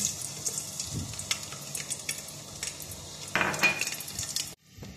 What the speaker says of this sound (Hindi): ये देखिए हमारा ऑयल हीटअप हो चुका है और अब मैं इसमें लहसुन डाल रही हूँ